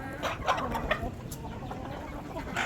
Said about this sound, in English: One thing's for sure about chickens, they will fight over some corn or food.